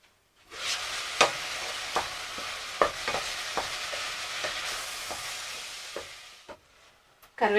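Eggs frying in an onion curry in a pan give a continuous close sizzle with repeated sharp clicks of a utensil against the pan, fading to quiet near the end before a final burst.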